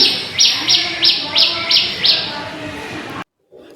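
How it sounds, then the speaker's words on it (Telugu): Sparrows chirp around nest boxes at a house terrace garden, a rapid series of sharp, evenly repeating tweets over a dense, steady wash of outdoor noise, loud and close, cutting off abruptly near the end. "పిచ్చుకలు అవి కూడా మాకు చాలా ఎక్కువ వస్తాయి మా ఇంటికి"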